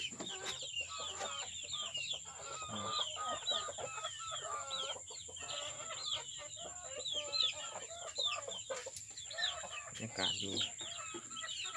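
Chickens cluck repeatedly at close range on a rural Thai–Lao farm field, the busy overlapping calls filling the whole stretch with a steady background hum and faint voices underneath.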